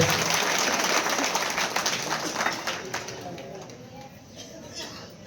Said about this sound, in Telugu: నిజంగా గట్టిగా ఈ తల్లులు చప్పట్లు కొట్టింది